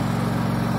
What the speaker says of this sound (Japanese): 桃畑の草刈り、常用草刈り機を利用して、草刈りを、今朝も、しているところです